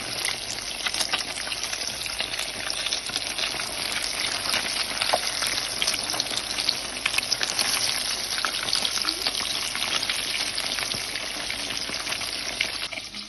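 Flour-coated fish frying in a pan crackles and sizzles continuously at a close, even level, dense with small spattering pops throughout.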